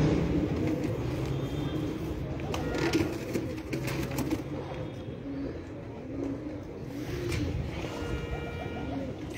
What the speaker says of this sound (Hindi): ये माशाल्लाह 39 नंबर मदीने वाले टैडी कबूतर